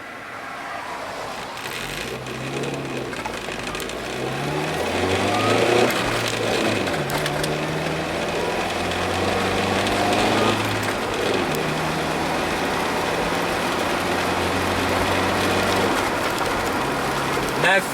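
A manual-transmission vehicle cruising in fourth gear at 40 mph, giving a steady, continuous engine and road drone with low tonal hum throughout, fairly loud and unbroken.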